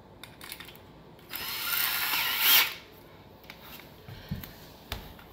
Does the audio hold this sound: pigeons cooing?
no